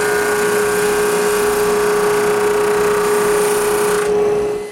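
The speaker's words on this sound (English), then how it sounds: "I sand them straight in the drum sander" A drum sander grinds steadily on wood pieces for a wine rack, a constant close motor whine with a sanding hiss, then the sound cuts off near the end.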